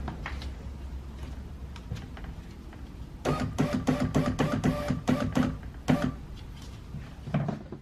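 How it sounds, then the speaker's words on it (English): A power window on a 2009-2020 Dodge Journey door is raised with the door panel off, producing a close whirring motor run with rapid clicking and rattling that stops abruptly. "I'm going to raise the window where we get access to the clip"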